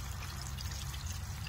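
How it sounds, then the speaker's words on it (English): Water running steadily from a tap over raw sheep fleece as it is rinsed clean, a constant close splashing rush with no talk. "Just running the water over it."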